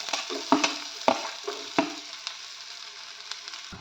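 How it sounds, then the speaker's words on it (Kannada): Onion, green chili and curry leaves frying in a pan, giving a soft sizzle broken by a few sharp scrapes and knocks of a spatula early on, then settling into a gentle, steady fry with no voices. "ಈಗ ಈರುಳ್ಳಿ ಫ್ರೈ ಆಗಿದೆ."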